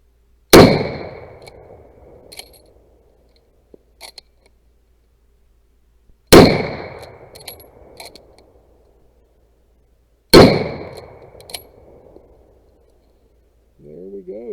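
Three loud, sharp rifle shots from a No4 Mk1 T clone rifle, spaced several seconds apart, each with a ringing decay and faint clinks between, and a brief voice at the very end.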